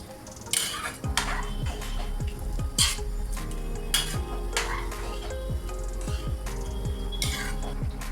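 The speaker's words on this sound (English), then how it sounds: "mix everything well till all the ingredients are incorporated nicely" Chhole gravy with water in a pan over a medium flame, stirred with a utensil that scrapes and clinks against the metal in a steady repeating rhythm. The sound is close and alone, with a low simmering bubble underneath.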